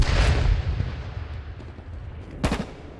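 Gunfire from enemy players in the H1Z1 Battle Royale video game: a loud volley crackles at the start, fades to a rumbling lull, then one sharp, close shot cracks out near the end.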